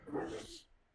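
A man imitates a dog with a single short, gruff vocal bark, close and fairly quiet, fading quickly into silence.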